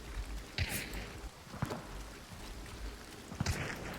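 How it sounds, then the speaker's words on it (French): Steady hiss of rainfall in the video game Hunt: Showdown fills the background, with a few sharp pops and thuds breaking through at irregular moments. "Ouais, avec la pluie, c'est chiant."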